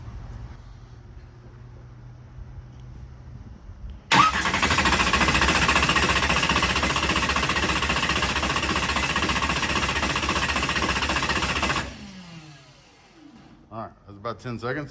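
A car engine cranks fast on the starter, triggered by a firewall-mounted bump button and powered by a 16-volt battery: a loud, steady, rapid churning lasting about eight seconds, then cutting off, with someone talking before and after.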